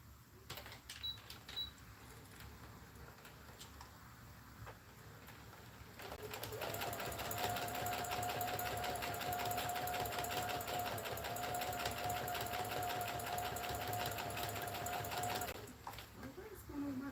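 A home sewing machine stitches a reversible bucket hat, first quietly with scattered handling sounds, then whirring in a fast, steady run for about nine seconds before stopping.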